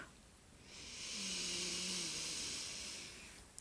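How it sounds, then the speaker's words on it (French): A slow, deep breath is drawn in steadily through the nose or mouth during a calm guided relaxation, a soft airy hiss that swells for about two seconds and then fades, close and quiet. "Une troisième et dernière fois, j'inspire."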